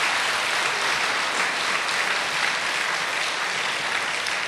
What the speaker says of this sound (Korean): 이 시간 한번 뜨겁게 한번 이광복 목사님 박수 한번 해주시고